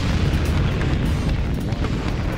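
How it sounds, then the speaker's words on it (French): Rocket fuel combustion, a loud sustained rumbling roar of a launch blast, deep and continuous with crackling texture throughout, no voices. "une fusée peut s'en dégager avec une force brute fournie par une réaction chimique, l'explosion de son carburant en combustion"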